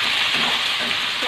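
Shrimp dropped into a hot pan of fragrant chili and garlic, giving a steady, loud broadband sizzle that holds evenly for a moment with no talk.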